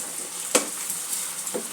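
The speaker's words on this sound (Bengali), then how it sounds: "সব কিছু দিয়ে মশলাটা ভালো করে একটু কষিয়ে নেব।" Bengali masala with green chillies frying in a pan for a bhetki fish chachchari: a steady, close sizzle with a couple of brief scraping stirs.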